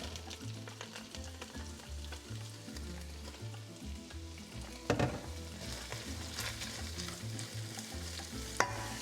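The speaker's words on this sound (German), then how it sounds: "Dann kommen die roten Zwiebeln und die Frühlingszwiebeln rein." Red onions and spring onions fry in a pan with a soft, continuous sizzle while a utensil stirs and scrapes, with a couple of sharper knocks against the pan.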